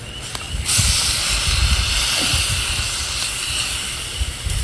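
Wild lambs quarters sautéing in a cast iron pan over a campfire, a steady broad hiss of frying that swells after the first moment and holds, close and fairly loud, with a low rumble beneath.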